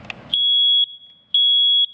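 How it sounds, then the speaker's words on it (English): A smoke detector alarm sounds loud, sharp high-pitched beeps in a regular on-off pattern, each tone held about half a second, alone after a brief faint noise at the start. "Williams reminds homeowners to check their smoke detectors"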